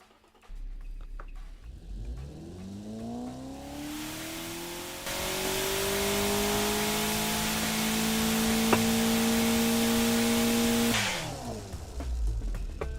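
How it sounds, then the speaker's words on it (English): A simulated 1600-horsepower Hennessey Venom F5 engine in the game Automation runs on a test: one loud, continuous rising rev that climbs, holds at high pitch for several seconds, then drops away, with no talk. "so I'm about to test the engine."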